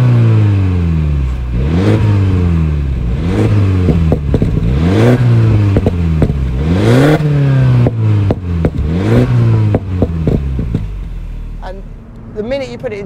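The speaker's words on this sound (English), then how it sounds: "You can actually hear the turbo whistle away in the front" A 2016 Mini Cooper S convertible's turbocharged engine revs repeatedly through gear changes, rising and falling in pitch, with a faint turbo whistle from the front and shifts in between; loud and close.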